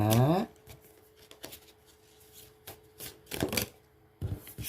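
Tarot cards being shuffled, a sequence of soft, quick papery riffles and snaps spaced irregularly, close and fairly quiet, with a short voice at the start.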